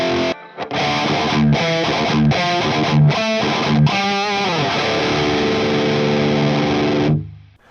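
An overdriven electric guitar with a death metal tone plays several crunchy chords, then lets a final chord ring out before it cuts off.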